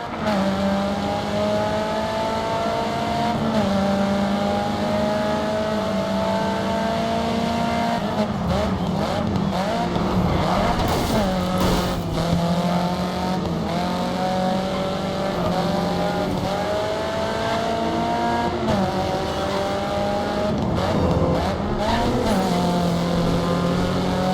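Race cars in the Grid 2 racing game roar continuously, engines holding a steady pitch with repeated revs and gear changes and occasional tire squeal, loud and close throughout without speech.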